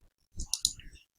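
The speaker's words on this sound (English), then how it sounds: "Let's click on the graph itself." A computer mouse clicks on a graph during homework, two or three quick, quiet clicks in near silence.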